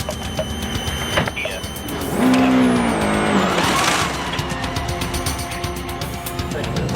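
A World Rally car drives past on a stage, its engine rising loud and close around the middle, with a sweeping pitch change and squealing as it passes, then fading back into steady background noise.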